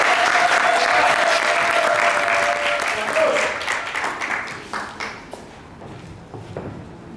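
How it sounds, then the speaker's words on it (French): An audience at a book-signing conference in Yaoundé claps in a dense burst of applause that gradually thins and fades, with a voice briefly audible early on. "Sous vos acclamations"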